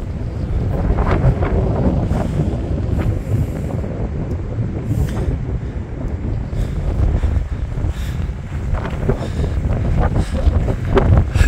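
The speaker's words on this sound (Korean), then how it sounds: "와, 바람." Strong wind on a golf course buffets the microphone in loud, rough gusts, a continuous roar with surging bursts and no speech over it.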